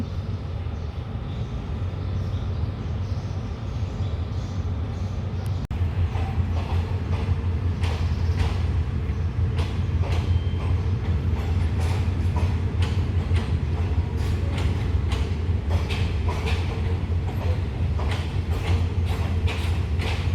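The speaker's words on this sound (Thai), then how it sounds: "ที่คุณปู่กำลังเอาเข้าไปในชานชาลาที่ 10 เป็นขบวนสินค้าที่ 985" Freight train No. 985 on Thailand's eastern line rolls slowly into platform 10 of a station, giving a steady, loud rumble of wagons with repeated creaks and rhythmic wheel clacks over rail joints, with no talk.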